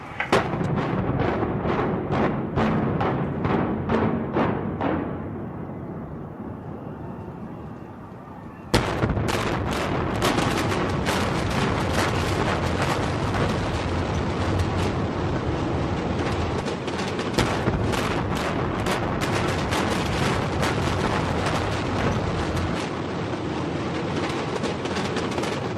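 A series of sharp blasts rings out during the Las Vegas Riviera building implosion, the blasting caps firing in a rapid rhythmic sequence, then after a brief lull a sudden huge detonation gives way to a long, dense roar of collapse and crackling.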